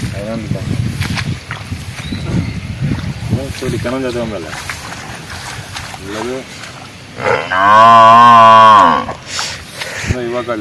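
Loud, long water buffalo moo rising clearly near the end, preceded by people talking close by with outdoor background noise.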